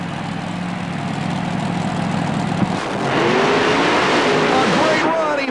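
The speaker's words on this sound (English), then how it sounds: "The supercharged Chevy from Michigan, with a 1948 Fiat body," A supercharged Chevy mud racer with a 1948 Fiat body, loud and close at a stadium mud-racing event: a steady engine drone that swells into a louder roar partway through, under an announcer's voice.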